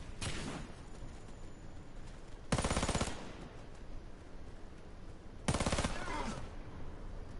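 A golden gun fires in a team-based shooter game with medic and engineer classes: two short, loud automatic bursts about three seconds apart, set against steady background game noise.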